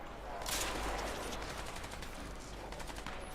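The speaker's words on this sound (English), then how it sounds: "So I'd rather just snipe them, you know, like this." Sniper rifle shots in Crysis 2, a sharp loud crack near the start followed by a few softer distant gunshot bursts over steady combat ambience.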